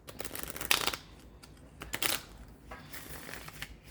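A tarot deck is shuffled up close in a few quick crisp riffling bursts separated by brief pauses, with no voice.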